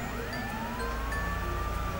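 A wailing ambulance siren sweeps up and down in pitch inside the Bus Simulator Indonesia driving game, steady and moderately loud over a continuous low engine and traffic rumble, with no talking.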